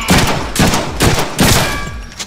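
Rapid, loud gunfire from the Deadpool video game, four heavy bursts of shots in quick succession, close and dominant with no talking over them.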